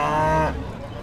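A single loud cow moo, close and brief, at a cattle market in Pati, Central Java, where young heifer calves are sold; the call fades into faint market background.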